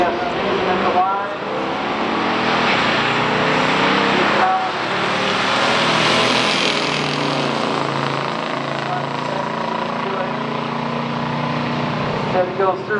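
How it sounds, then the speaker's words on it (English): A 1974 Chevy Chevelle 454 and a 1969 Buick GS400 drag race, loud engines roaring and revving hard at launch then droning away, with a commentator talking over them. "The McCollum Chevelle, 1974 model, 454. Goes up against Herman Gross with the 69 GS400."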